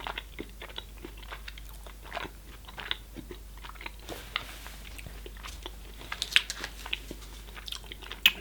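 Dark chocolate ganache being bitten and chewed close up, soft wet crunches and smacking mouth sounds scattered over the full length with a couple of sharper bites near the end, no talking.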